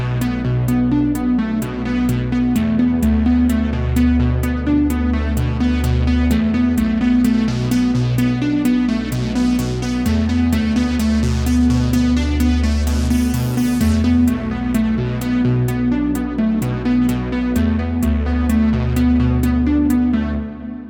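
Synthwave track built on a Vital software synth preset emulating a Prophet 5: steady pulsing bass and warm analog-style chords under a crisp repeating hi-hat pattern, a rising swell midway, continuous and loud with no voices.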